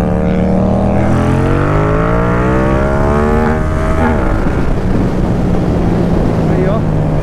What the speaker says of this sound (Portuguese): Vamos ver o que vai dar de top speed aí.